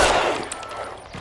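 Gunfire in the video game L.A. Noire, a sharp close burst of shots with a harsh crack at the start that trails off quickly.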